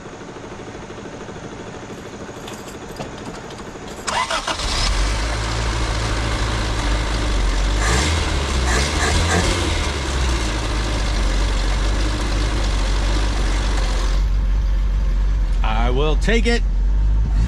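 First-generation Honda Civic engine cranking and catching after a fuel pump replacement, then settling into a steady low idle that runs on. A brief spoken phrase comes just before it starts.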